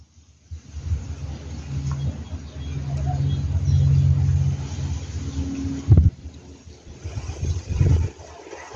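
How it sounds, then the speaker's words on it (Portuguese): Strong hot wind blows hard against the microphone, a loud low rumbling buffet that rises and falls with gusts and sharp bumps. "Gente, tá ventando"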